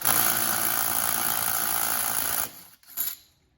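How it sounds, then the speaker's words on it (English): A loud impact wrench hammers continuously on the flywheel nut of a Predator 212 non-hemi small engine racing build, then cuts off, followed by a couple of short bursts. "Alright, so first you're gonna impact your nut off."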